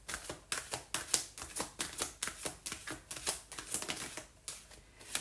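Cards riffle and snap in a quick, uneven run of crisp slaps from a deck being shuffled before a card is pulled, close and fairly loud with no talk.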